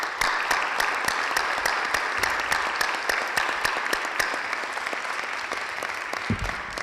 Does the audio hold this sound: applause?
yes